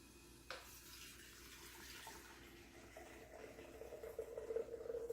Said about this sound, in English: So the coffee's going down.